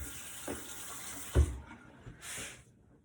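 During a home haircut, water runs and splashes while hair is wetted, with a faint hiss of flow, a sharp splash in the middle, and a short burst of running water near the end.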